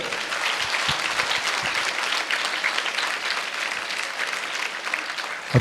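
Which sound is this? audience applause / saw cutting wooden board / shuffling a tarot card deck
audience applause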